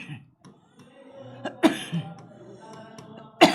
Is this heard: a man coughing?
yes